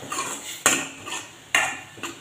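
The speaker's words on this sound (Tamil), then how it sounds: "தக்காளியை நசுக்கி அதை நல்லா அடிப்ப சின்னதாக வச்சுக்கணும்." Metal utensil scraping and clanking against a pan while tomatoes are crushed and stirred for a dried fish fry, with two sharp loud strikes among softer repeated scrapes, no talking.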